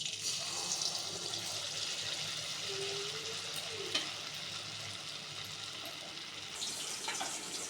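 Battered stuffed pointed gourd frying in hot oil in a wok makes a soft, steady sizzle with brief bubbling bursts and a small clatter near the middle, fairly quiet and without speech.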